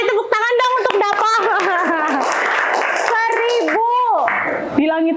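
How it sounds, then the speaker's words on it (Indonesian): Schoolchildren clap for a classmate in a classroom, a brief patter of small hands mixed into loud, overlapping children's voices and a teacher speaking close by. "Tepuk tangan dong untuk Dafa."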